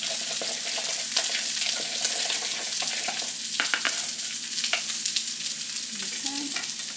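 A spoon works through a thick seasoning paste that has stiffened after the seasonings went in, making wet, scraping clicks and soft squelches in an irregular rhythm, fairly close and alone, over a faint steady background hiss.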